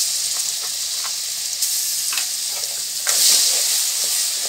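Ginger garlic paste hits hot oil in a pot for egg and potato biryani, giving a loud, close, continuous sizzle with sharp crackles and a brief surge of spitting hiss near the end.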